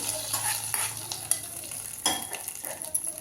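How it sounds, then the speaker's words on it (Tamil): Cashews tipped into hot ghee in a pan for ven pongal, giving a soft steady sizzle with a few light scrapes and stirring clinks, close and fairly quiet. "பாருங்கள் முந்திரி எடுத்து இதிலே கொட்டிடுறேன்"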